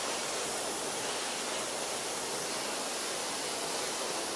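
A hot water extraction machine power-washes a tile floor and sucks up the water, producing a loud, constant hissing roar that runs unbroken without any talk.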